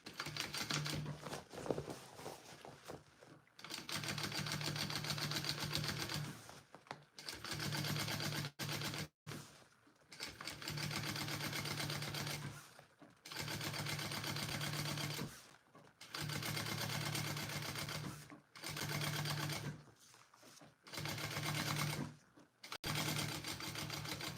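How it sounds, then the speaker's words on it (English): A sewing machine top stitching a garment lining runs in steady bursts of fast, even needle chatter lasting a few seconds each, separated by brief pauses, close and fairly quiet. "My seam allowance is going down and we're gonna top stitch"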